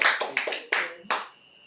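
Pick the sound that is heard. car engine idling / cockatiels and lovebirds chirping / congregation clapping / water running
congregation clapping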